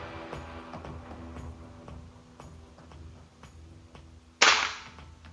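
A single sharp, loud crack from a Neo GNT Titanium v2 air rifle near the end, after a stretch of quiet background clicks and faint room noise.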